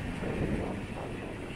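Steady wind rushes and buffets across the microphone aboard a canal boat cruising the Llangollen Canal, a broad continuous roar with slight gusting and no voices.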